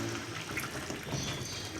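Water pouring into a pot of beef paya (trotters) being cooked for Eid, a steady continuous splashing stream heard close up with no talking.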